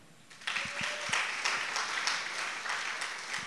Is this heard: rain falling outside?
no